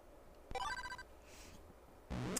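A Nintendo e-Reader scans an Excitebike card, giving off a short rising electronic chime. It is followed by faint background noise and then a louder burst of game sound near the end.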